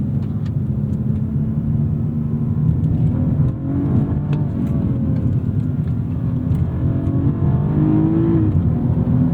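A 2016 BMW 228i accelerates hard from inside the cabin, its engine note rising steadily and then dropping at an automatic upshift near 6,500 rpm before climbing again. The drone is loud and continuous with no talk over it.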